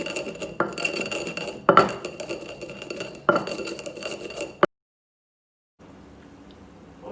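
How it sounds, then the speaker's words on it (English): Spices being mashed and blended for palm butter soup, heard as close clinking and scraping of utensils against a pot or bowl in irregular bursts, then a short silence and faint kitchen noise. "Mashing, blending with some of my spice together."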